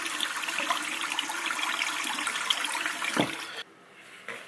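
Cold water runs steadily from a tap while a face is washed, a close continuous splashing stream that ends abruptly as the faucet shuts off, with a faint trickle afterward.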